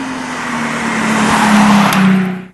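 A Nissan 350Z fitted with a front bumper and big wing drives past with a loud engine drone that builds and then cuts off abruptly, close and without talk.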